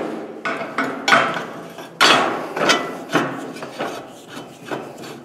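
Bolt being started by hand into the axle mount of a metal ATV utility dump trailer, a series of close knocking and scraping metallic taps at irregular intervals.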